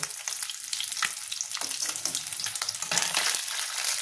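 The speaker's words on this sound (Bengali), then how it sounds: "এই মাছগুলো আমি ভেজে নেব।" Fish pieces frying in hot oil, a steady crackling sizzle with sharper pops and occasional stirring scrapes, close and fairly quiet with no talking.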